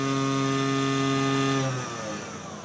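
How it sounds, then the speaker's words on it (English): A $150 CNC router spindle runs with a loud, steady, high-pitched whine close by, then shifts lower in pitch and eases slightly in level toward the end. "you can even turn on the spindle"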